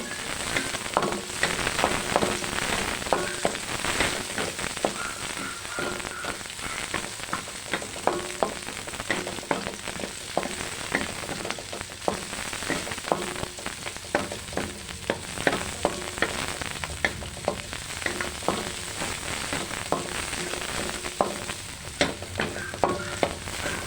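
Garlic and onion sizzle steadily in a hot pan while chicken Sprite adobo is being cooked, with a dense, continuous frying crackle and occasional scraping stirs running throughout.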